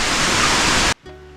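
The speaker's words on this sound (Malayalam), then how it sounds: "ഇവിടുന്ന് കാണാൻ നമുക്ക് വെള്ളം ഇങ്ങനെ ഒഴുകി വരുന്നത് അടിപൊളി കാഴ്ചയാണ്" Water at Paloor Kotta waterfall rushes in a loud, steady broadband roar for just under a second, then cuts off abruptly, leaving a quiet low hum.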